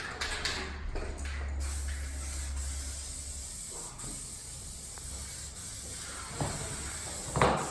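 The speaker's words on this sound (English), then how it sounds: "we're gonna go ahead and start spraying both of our material and our surface." Spray glue hisses from an aerosol can onto thick carpet material for a Cadillac interior, a long continuous close spray followed by a few shorter bursts.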